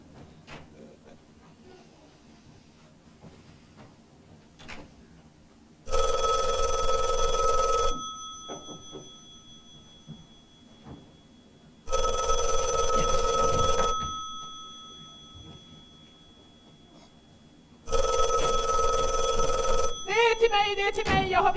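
An old-style telephone bell rings in three loud, harsh two-second bursts a few seconds apart, with quiet room sounds in between, during a revue stage show.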